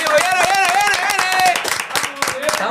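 A studio audience at a Puerto Rican TV show claps loudly and quickly in a close, continuous burst, with voices talking and cheering over the applause.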